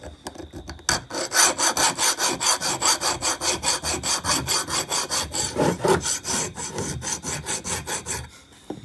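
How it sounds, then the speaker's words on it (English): A hand file works the ends of a soldered opal inlay ring in steady, rapid back-and-forth strokes, loud and close, with a raspy scraping rhythm and no talk. "that's where we're going to be doing a bit more filing"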